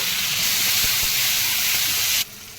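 Loud, steady sizzling hiss as tomato hits onions frying in a pan for a salted fish and taro curry, steaming continuously before cutting off abruptly near the end.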